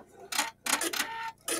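Husqvarna Viking embroidery machine fitted with a number 3 cutwork needle, stitching in loud, rapid mechanical bursts separated by short pauses, with no voices.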